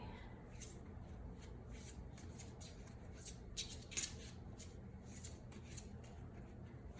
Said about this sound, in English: I'm going to shuffle for this question.